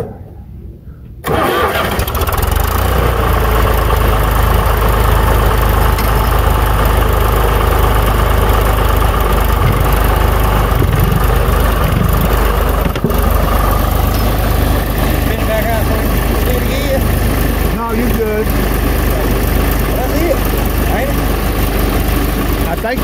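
A John Deere 1020 tractor engine catches after a brief quiet moment, then runs as a loud, steady diesel chug while the tractor moves forward, close by with people talking over it.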